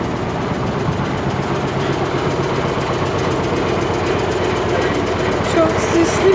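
A small tour boat's engine runs at a steady, continuous drone on a rain-muddied river, moderately loud and close throughout.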